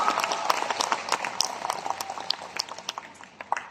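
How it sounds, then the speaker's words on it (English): Audience applause at a team-building business seminar in the Philippines, a fairly faint patter of scattered claps with uneven rhythm lasting several seconds, heard from a distance with no talking. "Let's give yourself a big round of applause."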